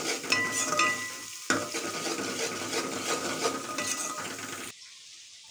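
Onions, ginger and garlic sizzle in a hot pan while a utensil scrapes and stirs them, a steady close frying hiss broken by a brief pause before the sound cuts off near the end.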